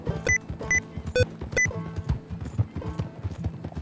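A horse galloping in the video game Red Dead Redemption 2, rhythmic hoof clip-clops pounding close and loud with occasional clunks, accompanied by game music and effects.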